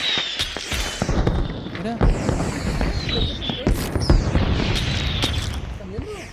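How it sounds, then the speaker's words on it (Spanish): Firework rockets in Hunt Showdown pop and crackle in scattered bursts, some whistling as they rise, mixed with the game's ambience while people talk over them. "¿Cohetes?"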